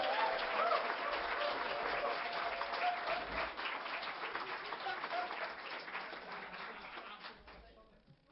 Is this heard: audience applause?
yes